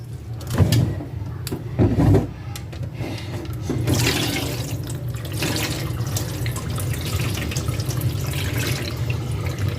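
Running tap water splashes steadily into a sink while a child washes rice, with a few louder splashes and sloshes early on before an even flow continues, close and alone.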